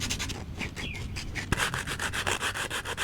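Sandpaper rubs a small wooden skateboard fingerboard in quick, steady back-and-forth strokes, a close, continuous rasping rhythm with no voices.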